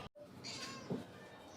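A single short meow from a black-and-white tuxedo cat, fairly faint, rising then falling, with soft background noise and a brief dropout just before it.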